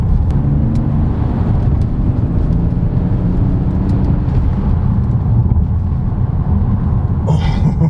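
A 2021 Kia Stinger GTS drives along an uneven road, heard from inside the cabin as a steady, loud low rumble of engine and tyre noise with faint clicks and a brief brighter rattle at the end.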